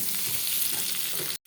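Fried potatoes in a pan, with spices such as cumin paste, salt and turmeric being added, sizzle loudly and steadily up close before the sound cuts off abruptly.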